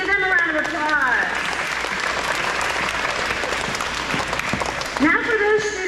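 Loud, close applause from an elementary school awards audience honoring honor roll students, with an adult voice speaking over the clapping at the start and again as it fades near the end.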